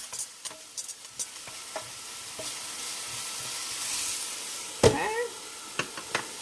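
Food sizzling and frying in a pan while being stirred, a steady soft hiss with scattered clicks and scrapes of a utensil, and a brief spoken word near the end.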